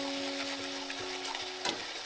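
Tomato paste and spices frying in oil in a pan, a steady close sizzle with faint stirring scrapes and a brief louder clatter, no voices.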